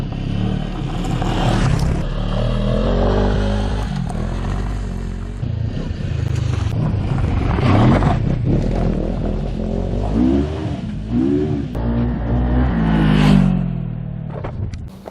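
A CFMOTO 700 CL-X Heritage motorcycle engine drones continuously while riding, with rising and falling revs and wind rumble throughout, loud and close.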